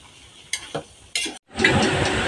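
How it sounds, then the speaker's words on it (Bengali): Leafy greens from a home field cooking in a pan, with a steady sizzle and stirring scrapes, a few sharp utensil knocks, then a brief pause before loud continuous frying returns. "সেই শাকগুলোই রান্না করতেছি"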